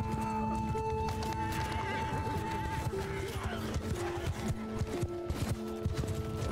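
Horses gallop and neigh in Mount & Blade II: Bannerlord, a steady drumming of hooves with repeated whinnies over a dense game soundscape of battle noise and music, while a voice talks throughout.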